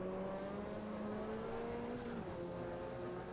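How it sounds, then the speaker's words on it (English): A race car in the racing video game Automobilista 2 revs hard and steadily, a buzzing high-pitched engine whine that drops in pitch on a gear change. The sound is faint and continuous, with no talking. "This car sounds like it's going a lot faster than it actually is."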